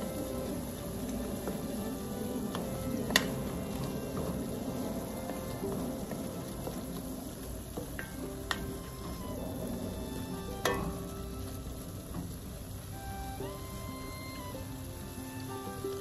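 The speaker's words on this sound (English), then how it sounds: "I'm adding my black pepper and my dry thyme, and I'll stir everything up" A spoon stirs black pepper and dried thyme into a Nigerian peppered fish sauce, giving a steady wet bubbling and rain-like simmer with a few faint clinks, close and even throughout.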